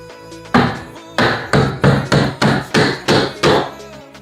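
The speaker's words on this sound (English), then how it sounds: "when I grab my drywall hammer, and it's as simple as putting it in" A drywall hammer drives drywall nails in eight sharp, evenly spaced strikes, close and loud, each blow ringing briefly before the next.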